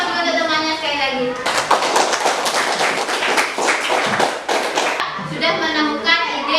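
Applause from a class of students for a classmate, a burst of brisk, fairly close clapping that lasts a few seconds, with a teacher's voice before and after it.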